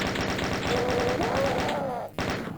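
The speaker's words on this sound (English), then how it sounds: "Going to switch over to the chain gun." A chain gun firing in the video game Doom 2, a rapid, evenly spaced stream of loud shots that rattles nonstop before a brief break and a final burst near the end.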